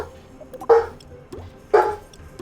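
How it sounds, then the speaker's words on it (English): A dog barks twice in the background, sharp single woofs about a second apart, moderately distant in an otherwise quiet room. "Doggo barking in the background."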